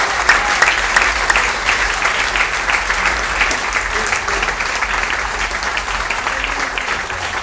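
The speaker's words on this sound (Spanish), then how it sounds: "denle un aplauso al Rey de Reyes y Señor" Sustained, loud audience applause at an evangelical church service in honour of the King of Kings, a dense wash of clapping filling the whole stretch without letup.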